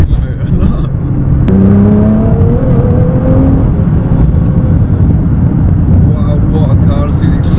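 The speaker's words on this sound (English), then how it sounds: "Wow, what a car! See, the acceleration is straight away there." A 680 bhp Nissan GT-R R35 accelerates hard on a wet road, its engine note climbing steadily in pitch over a loud, continuous rumble of road and tyre noise.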